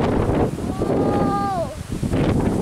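Strong, gusty wind in the aftermath of Hurricane Irma roars steadily across the microphone with rustling debris, and a brief whistling tone rises and fades in the middle.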